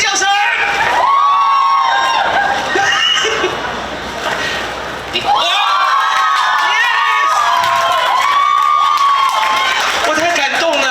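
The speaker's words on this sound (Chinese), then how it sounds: "来，尖叫声！" An audience screams and cheers loudly on cue at a promotional event. The high shrieks are sustained, dip briefly in the middle, then surge again.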